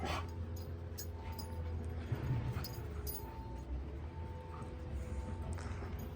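Dogs play outdoors at a high-elevation construction site. Faint yips and small whimpers come and go over steady background noise, and there is no talk.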